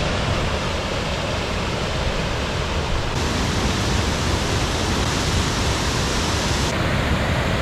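A waterfall near Monsal Head in the Peak District roars with a constant, dense rush of falling water, close and loud, with no voices.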